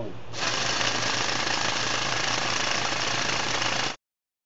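Percussive drill coring into vesicular basalt, part of a microspine anchor-and-drill rig built for asteroid and Mars cliff work: a loud, steady, rapid hammering buzz that starts abruptly and runs unbroken for several seconds before cutting off.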